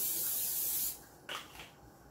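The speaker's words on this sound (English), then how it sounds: "I'm going to spray that with cooking spray" Cooking spray is sprayed onto dough in a home kitchen as one close, loud, steady hiss lasting about a second, followed by a softer brief puff and quiet.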